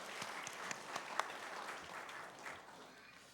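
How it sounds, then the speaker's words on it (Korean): A church congregation applauds during Sunday worship after a choir's hymn: a soft, distant patter of many hands clapping with a few sharper claps, fading slightly toward the end. "하나님께 영광의 박수 올리겠습니다"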